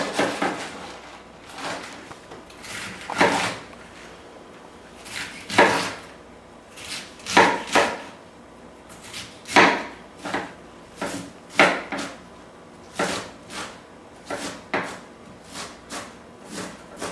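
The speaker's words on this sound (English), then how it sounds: "So I'm going to chop this up" A knife chops cabbage finely on a cutting board in a home kitchen: sharp, close knocks come singly and in quick bursts of two or three, irregularly spaced, with quiet gaps between and no talking.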